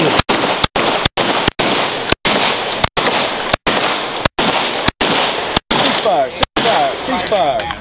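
Rapid pistol gunfire during a fighting pistol drill, a dozen or so sharp, loud shots in quick uneven bursts with brief ringing echoes between them, outdoors on a range.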